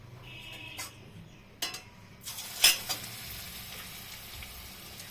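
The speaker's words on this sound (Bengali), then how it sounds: "এখন কড়াই তেলও গরম হয়ে গেছে। এখন আমি বড়াগুলোকে ছাড়বো কড়াইতে।" Batter fritters made from drumstick (moringa) flowers drop one by one into hot oil in a wok. Each lands with a short splash, then the oil breaks into a rising, crackling sizzle that carries on without any talk.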